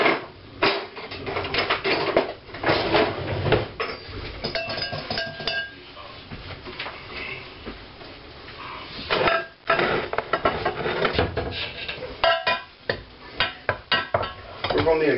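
Ingredients for bread pudding are whisked in a bowl, giving repeated metallic clinks and scraping strokes in uneven bursts, close and fairly loud, with brief pauses between rounds.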